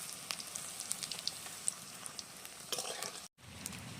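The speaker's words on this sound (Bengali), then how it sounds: "এখানে একটা পাঁপড় বাকি আছে ভাজতে তো এটাও ভেজে নিচ্ছি লাল লাল করে" A papad frying in hot oil and pressed with a spatula gives a faint, steady sizzle with scattered light crackles and soft scraping ticks, briefly cut to silence near the end.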